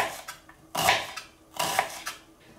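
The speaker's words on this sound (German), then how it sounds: "dann schneide ich in die feineren Streifen" An onion is cut into fine strips, giving a few distinct, fairly close knife strokes that crunch and then knock on a cutting board, set apart by brief pauses.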